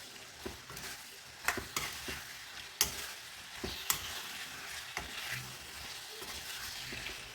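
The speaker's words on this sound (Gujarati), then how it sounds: "સબ્જીને આપણે સરસ ચડાવી લઈએ પાંચ મિનિટ ફૂલ ગેસ કરવાનું છે" An eggplant and potato curry cooks in a pan over a full gas flame, giving a soft, constant sizzle broken by occasional clinks and scrapes from stirring. No one speaks.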